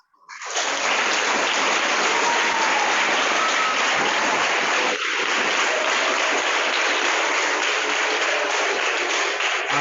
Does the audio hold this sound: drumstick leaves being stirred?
no